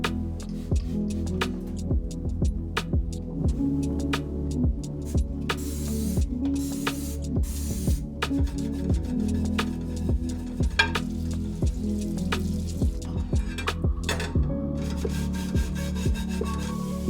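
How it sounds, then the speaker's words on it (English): Rhythmic rubbing and wiping strokes of a microfiber cloth with occasional short sprays of vinegar cleaner in a kitchen, steady and close over a faint background hum. "Then I'll reach for our all-purpose vinegar spray and a microfiber cloth."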